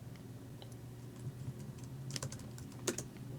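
Someone types a terminal command on a computer keyboard, a sparse run of quiet, light keystroke clicks over a low steady background hum.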